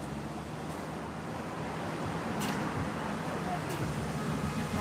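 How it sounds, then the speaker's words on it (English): Strong outdoor wind blows on a cold day, a constant broad roar with gusty buffeting and a couple of sharp bursts against the microphone, with no clear speech heard. "it's so windy."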